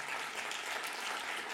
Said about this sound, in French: On peut applaudir, bien sûr.